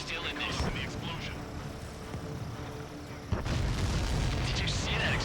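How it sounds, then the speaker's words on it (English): An explosion in the jet combat game Ace Combat 7: Skies Unknown, a heavy boom that jumps in loudness partway through and rumbles on, over constant jet and battle noise. "Did you see that explosion?"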